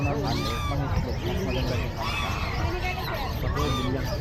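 Dense honking and chirping of many geese and young goslings, steady and close, with people talking underneath in a busy market setting.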